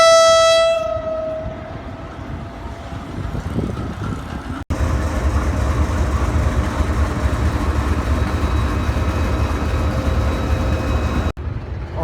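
Tezgam Express passenger train from Rawalpindi arriving at Karachi Cantt station, a long horn blast opening over steady rumbling wheels and carriage clatter that continues loud and close, with a brief cut in the middle.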